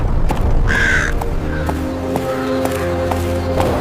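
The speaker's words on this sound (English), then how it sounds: "A crow sitting on the gate spoke to her." A crow perched on a palace gate gives a few loud, close, harsh caws, with soft thumping movement beneath.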